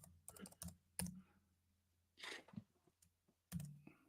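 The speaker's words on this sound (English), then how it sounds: "apologies if people can hear the clickety clack of the keyboard" Keys on a computer keyboard click in scattered short bursts, faint and close, with quiet pauses between runs of typing.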